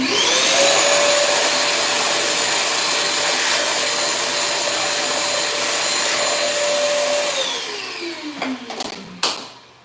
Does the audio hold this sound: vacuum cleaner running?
yes